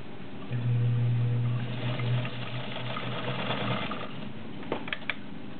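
A vintage Kenmore model 1303 zigzag sewing machine runs in a steady hum for about three seconds, then slows and stops, leaving faint mechanical clicks and a few light taps near the end.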